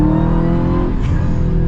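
A 2022 Dodge Challenger SRT Super Stock accelerating hard, its engine giving a loud, steady, close roar with a deep rumble throughout and no speech.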